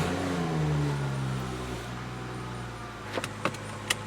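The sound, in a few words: BMW car being switched on after repair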